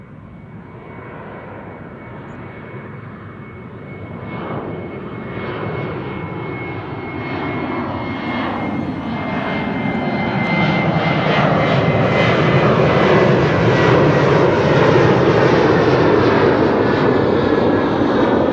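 A departing aircraft at Amsterdam Schiphol Airport roars with engines that swell steadily louder over many seconds, a broad rumbling wash with a faint high whine, no voices.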